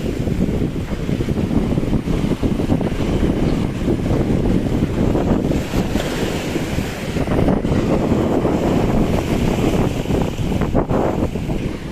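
Steady, loud wind roars and buffets the microphone beside a coastal road in Davao City. The rumble runs continuously with gusty swells and no talk.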